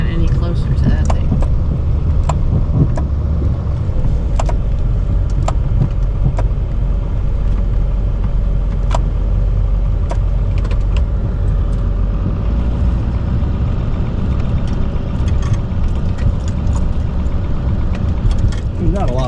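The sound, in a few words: Chevy Duramax diesel dually pickup with Blizzard snow plow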